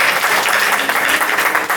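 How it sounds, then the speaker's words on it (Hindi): Audience at a Hindi kavi sammelan poetry gathering claps steadily, a dense, continuous round of applause close and loud throughout, with no voices above it. "प्लीज आप सभी के लिए आप खुद ही ताली बजा दीजिए, और मैं भी बजा दूंगी"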